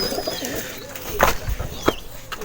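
Soft low cooing from a nearby bird, a few brief calls amid faint background noise.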